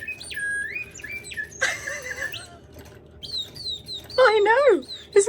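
A 19th century singing bird automaton gives bright mechanical chirps, warbling trills and rapid fluttering notes in short bursts, fairly close, with quieter gaps and a brief louder flourish near the end.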